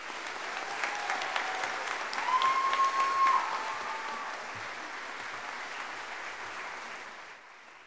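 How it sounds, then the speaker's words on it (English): Steady applause from an audience at a school mariachi program event honoring a scholarship recipient, continuous clapping that swells briefly in the middle and then fades gently toward the end. "Can we give one more round of applause"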